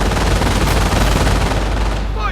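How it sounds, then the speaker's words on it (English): Machine gun fire rattles in a loud, dense, continuous burst during a Company of Heroes battle, close and sustained with faint voices beneath. "but they're under constant MG fire"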